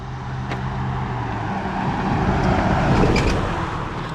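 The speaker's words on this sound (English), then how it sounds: "there's a truck coming" Truck passing on the road, a broad rumbling swell that builds to a peak near the middle and then eases off, with a low engine tone early on.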